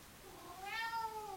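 Zéphyr, a pet cat, lets out a single drawn-out meow that rises and then falls. The call is clear against a quiet indoor background.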